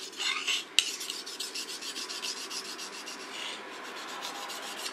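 A sashimi knife blade is rubbed back and forth on a whetstone in a run of close, rhythmic scraping strokes, with a sharp click near the start.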